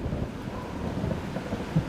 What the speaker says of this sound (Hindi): बादलों की गड़गड़ाहट ने सन्नाटे को तोड़ दिया।